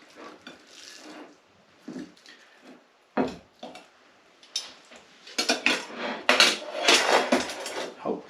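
Metal tongs clacking and scraping as steak and lobster tail are flipped in a pan, with scattered knocks that grow busier and louder toward the end.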